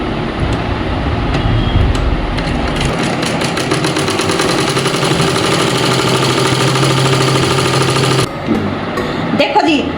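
A sewing machine stitches the side seam of a pair of pants. It makes a rapid, steady mechanical rattle for several seconds and then stops abruptly. The sound is loud and close.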